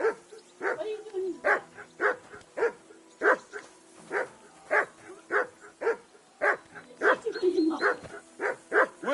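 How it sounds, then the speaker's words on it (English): A dog barks in the video game Kingdom Come: Deliverance 2, a steady run of about fifteen evenly spaced, sharp barks, close and fairly loud, with a few whimpering yips mixed in. "That barking was a pain in the ass."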